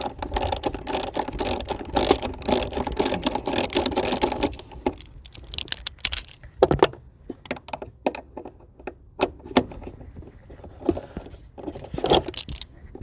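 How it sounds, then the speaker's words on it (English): A 2015 Jeep Wrangler's last battery hold-down bolt is backed out with a ratchet: dense, continuous clicking up close for the first few seconds, then slower, scattered clicks and taps. "now I'm going in for the last bolt down here on the side of the battery."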